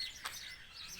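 In a free-flight walk-in aviary, a single faint bird chirp rings out once, brief and distant, over soft background hush.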